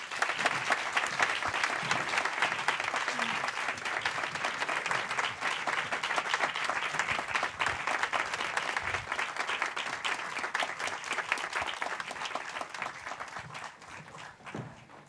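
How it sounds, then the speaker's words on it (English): Sustained audience applause fills the hall as three finalists join the president and founder on stage at the Sphinx Stars Detroit event, a dense, steady wash of clapping that holds throughout and thins slightly at the very end. "Let's give them a round of applause."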